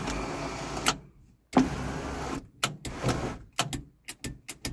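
The electric sunroof motor on a Foxbody Mustang whirs in short bursts, a brief run, a pause, then a string of quick stop-start pulses close by.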